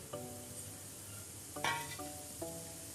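Coconut slices fry quietly in hot oil for poha chiwda, with a faint steady sizzle. A utensil clinks and stirs against the pan a few times, and one scrape stands out near the middle. The sound is close and low, with no talking.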